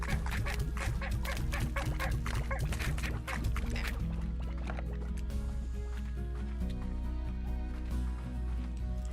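Chicken clucking in the video game Slime Rancher, a dense run of quick fowl-like calls over steady game music and ambience, busiest in the first few seconds and then softer.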